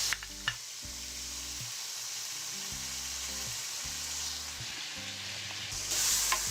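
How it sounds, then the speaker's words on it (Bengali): Shrimp fry lightly in a pan with a steady, soft sizzle lasting several seconds, with faint stirring scrapes and low tonal music pulsing underneath and no talking. "তো চিংড়ি মাছগুলোকে আমি হালকা ভেজে নেব"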